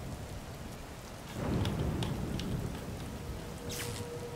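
Rain pours steadily during a lightning storm in Zelda: Tears of the Kingdom, and a low rumble of thunder swells in partway through, with a few sharp crackles near the end.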